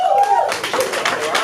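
An audience at an unplugged stage event clapping and snapping, a brief burst of scattered claps and snaps close by, with a voice audible over the start.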